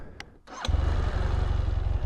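A BMW F800R motorcycle engine cranks briefly with a few clicks, then catches and settles into a steady, close, loud idle.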